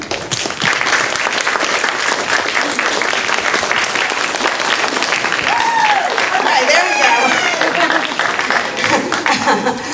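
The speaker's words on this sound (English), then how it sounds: "So please give yourselves a round of applause." A workshop audience gives itself a round of applause, loud sustained clapping from a large group that runs the full length, mixed with laughter and chatter.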